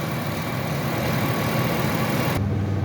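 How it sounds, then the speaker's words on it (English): A 4-liter car engine idles steadily up close with a dense, even hum and rumble that cuts off abruptly near the end. "with the motor running, you got a 4-liter motor"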